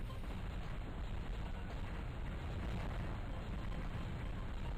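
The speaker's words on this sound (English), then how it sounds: "This is a carpet bombing." Carpet bombing in the Flash game Rubble Trouble Tokyo yields a dense, continuous rumble of overlapping explosions, loud and steady throughout with no distinct gaps.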